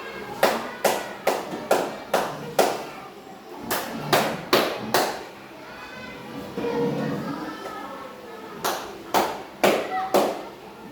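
A teacher in a fifth-grade classroom claps hands in quick rhythmic bursts of sharp, close claps, pausing midway while faint voices murmur, then resuming the patterned clapping.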